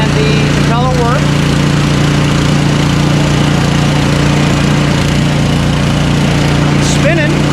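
An Ariens Sno Tek 24-inch dual-stage snowblower runs with its auger and impeller turning, giving a loud, steady engine drone with a constant low hum. A couple of brief squeaks come through, and no one speaks.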